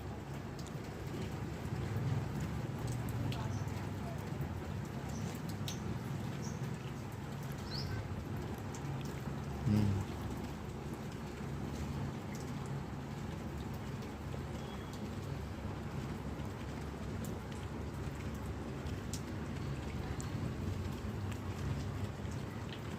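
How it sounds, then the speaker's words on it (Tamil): Steady rain falls outdoors as a continuous, even patter on surfaces, with a faint low rumble once partway through and no talking. "எப்படி மழை பெஞ்சிக்கிட்டு இருக்கு"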